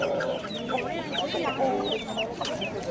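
Roosters at a poultry market in Buloqboshi, Andijon, cluck and squawk loudly and continuously up close, with overlapping calls from several birds.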